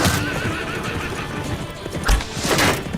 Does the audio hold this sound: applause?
no